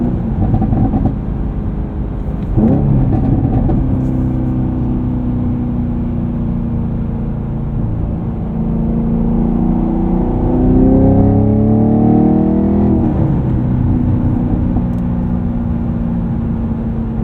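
A Chevrolet Camaro SS 1LE V8 engine holds a steady loud drone, then climbs in pitch as it revs up, settles, and rises again near the end, with no talk over it.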